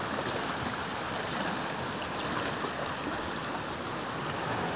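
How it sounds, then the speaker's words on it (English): Ocean waves washing onto a coast, a steady broadband wash of surf with some wind noise, close and continuous with no distinct breaks. "These waves are getting a little bit close"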